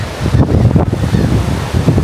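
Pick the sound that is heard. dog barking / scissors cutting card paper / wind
wind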